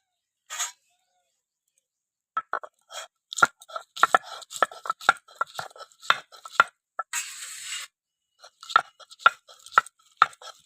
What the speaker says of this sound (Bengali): এবারে আদা রসুন একসঙ্গে বেটে নেবো